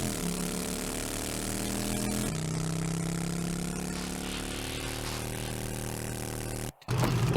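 A motorbike engine in 7 Days to Die drones steadily at high revs while sprinting, with a pitch shift partway through and a brief cutout near the end.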